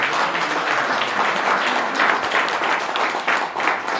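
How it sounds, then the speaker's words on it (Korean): Sustained applause from an audience at a Korean forum opening, dense hand clapping filling the room at a steady loud level throughout, with faint voices mixed in. "이인재 최고위원께 박수를 부탁드립니다"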